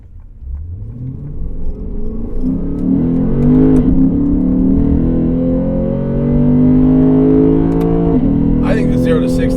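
A Lexus GS F V8 engine revs up, its deep rumble rising in pitch and loudness, easing briefly, then climbing again into a sustained, throaty drone close by.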